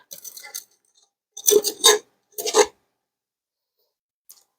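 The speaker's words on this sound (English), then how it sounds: "we're going to dump all this out into our 9x13 pan. Scrape it all out." Rice crispy treat mixture being scraped out into a 9x13 pan, a few short scraping and rasping strokes in bursts separated by silence, close and fairly loud.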